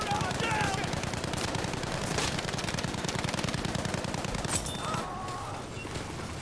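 Sustained rapid machine gun fire from Battlefield 5 on Wake Island rattles loud and close for about five seconds as a dense stream of shots, then breaks off into quieter background noise, with faint voices and game sounds underneath.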